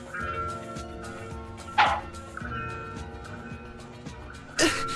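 A puppy barks in the video game Enchanted Arms, two short sharp yips spaced a few seconds apart over a continuous layered game music score.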